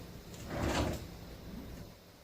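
A kitchen drawer slides open with a short, soft scrape and rattle as measuring spoons are fetched, followed by faint handling noise.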